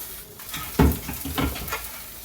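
A minari pancake (buchimgae) fries in an oil-slicked pan, giving a continuous close sizzle with a few louder crackling swells.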